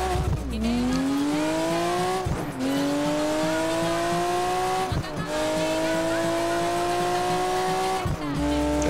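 Racing car engines in Project Gotham Racing 4, a loud, high-pitched engine whine climbing through gears with sharp drops at each of several shifts, continuous and close, with faint tire noise.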